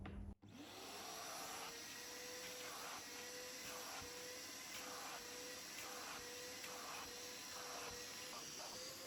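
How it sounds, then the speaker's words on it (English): A shop vac fitted with a narrow attachment sucks slurry out of a car mat, starting with a click and then running as a steady close whine and rush, with faint rhythmic scraping throughout. "I'm going to use my shop vac with a narrow attachment to vacuum the slurry out."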